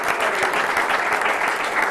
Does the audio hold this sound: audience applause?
yes